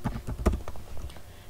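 Fingers tap on a computer keyboard, a short close burst of quick, uneven key clicks with no voices.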